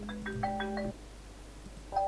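A phone rings with a short melodic electronic tone, a quick run of beeping notes that stops and then starts again, fairly faint in a quiet room.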